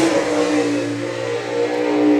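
A super sprint race car on a speedway lap lets out a close, steady engine drone with a slight rise in pitch near the end, loud and continuous.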